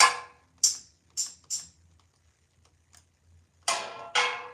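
Crisp, hissy shaker hits in a loose rhythm: one burst, then three quick shakes, a pause with faint ticks, then two louder shakes.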